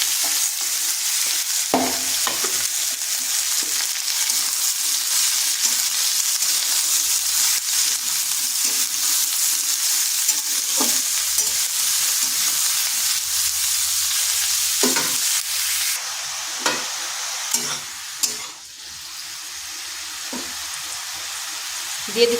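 Chopped bottle gourd with ground mustard fries and is stirred in a pan for a Bengali lau sukto, a steady sizzle broken by the scrape and clatter of a spatula at irregular intervals, close and continuous with no voices.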